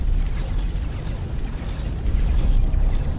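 A ship blowing up in the X4 Foundations space game, a sustained loud rumbling explosion with crackling debris and steady heavy low roar throughout.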